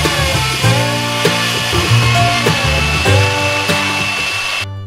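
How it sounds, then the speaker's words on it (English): Power sanding on a plywood kayak hatch frame outdoors on a dark winter night, a steady close whirring grind with shifting tonal bands, continuous and loud before cutting off abruptly at the end. "Also a good time to do some sanding."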